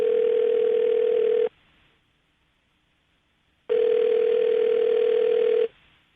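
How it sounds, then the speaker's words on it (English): A telephone dial tone sounds alone as two loud, steady bursts of about one and a half to two seconds each, separated by a quiet pause, heard just before dialing a call. "I'm going to dial the phone number right now"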